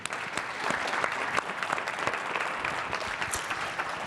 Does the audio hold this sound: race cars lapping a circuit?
no